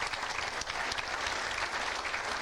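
A crowd at a career and technology center certificate ceremony applauds the masonry class, a dense, even wash of many hands clapping continuously, fairly distant and steady throughout.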